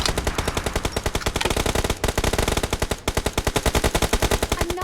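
Sustained automatic gunfire from PUBG Mobile in a heavy-weapons mode, loud rapid bursts firing almost continuously with brief gaps, no talk over it.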